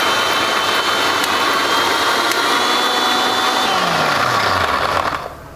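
An electric mixer grinder whirs steadily, grinding coconut, green chilies, mustard and curd into a paste, a loud continuous motor hum that winds down and stops near the end.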